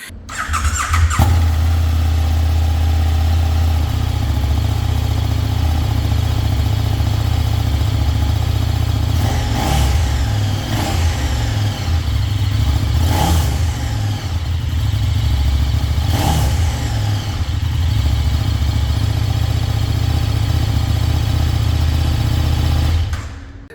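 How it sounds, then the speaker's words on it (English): A KTM 1390 Super Duke R motorcycle engine idles steadily and loudly, with a few brief revs standing out near the middle, and no talking. "we can get to listen how this bike sounds. So why not switch it on?"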